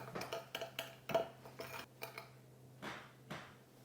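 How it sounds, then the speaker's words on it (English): Caster sugar and ground cinnamon are stirred together in a bowl with a spoon, giving faint, irregular scraping and clinking strokes with short pauses between them. "And we're simply going to mix them together."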